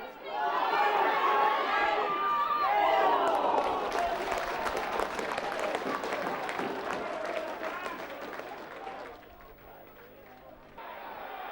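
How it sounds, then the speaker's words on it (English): A football crowd at an Aldershot Town match cheers and claps in a dense, continuous roar, with a voice talking over the noise throughout. "the crowd tried to lift the Shots"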